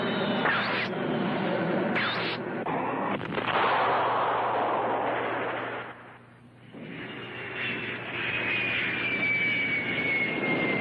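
Jet fighters fire weapons and roar overhead in a 1965 monster film, with sharp blasts of gunfire at the start, then a loud sustained jet rush that briefly dips before surging back.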